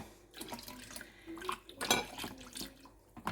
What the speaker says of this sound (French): Maintenant, j'ajoute un peu d'eau chaude.